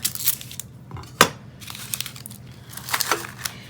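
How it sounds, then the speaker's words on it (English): A kitchen knife cuts the end off an onion, with a few short crisp crunches and slices spread across the moment, close up, the loudest one near the middle, amid quiet handling noise. "we want to cut through this end of the onion and cut that end off"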